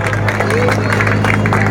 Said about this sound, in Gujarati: આપણે તાળીઓના ગડગડાટથી સ્વાગત કરીએ